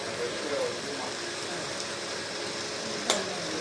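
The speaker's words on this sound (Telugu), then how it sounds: "ఇది బాగా బ్రౌన్ కలర్తో వచ్చేంత వరకు వేయించుకుంటే చికెన్ పులుసు చాలా టేస్టీగా ఉంటుందండి" A kilo of chicken, seasoned with salt and turmeric, fries in a pan until browned, giving a steady, fairly quiet sizzling hiss with faint stirring clinks.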